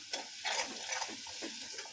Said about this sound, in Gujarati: લસણની ચટણી અને હળદરનો વઘાર કરું છું